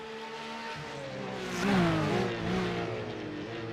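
A Porsche GT3 Cup race car at Bathurst in a racing game, its engine revving in a steady harmonic whine that surges and shifts pitch as it passes close, swelling briefly before settling back, loud and alone.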